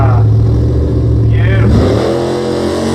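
A late model Hemi V8 in a Dodge Ute revs hard at a Mopar car event, loud and close, with the engine pitch rising and then dropping off the throttle. Someone talks over it.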